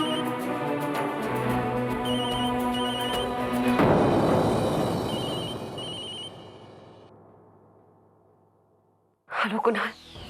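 A telephone rings in a domestic drama scene, a bright repeated electronic trill that sounds for a few seconds and then falls away into a fading swell of background music, followed by a brief voice.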